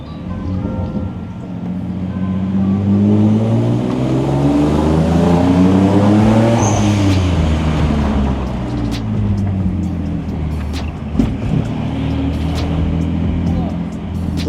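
A Boosted Z car heard from inside on a POV drive, its engine note climbing steadily under acceleration, then easing to a lower steady drone with road and wind rumble and a few clicks.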